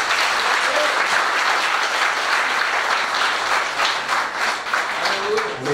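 Loud, sustained applause fills a large church conference hall as a pastor is welcomed to preach, a dense wash of clapping from a big congregation that carries on without a break.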